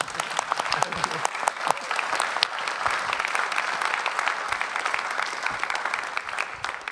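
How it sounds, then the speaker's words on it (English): Audience applause at a film and cinematography festival panel, a dense steady patter of many hands clapping for the full stretch, fairly loud and unbroken, with a faint murmur of voices beneath. "Sorry, I interrupted the applause."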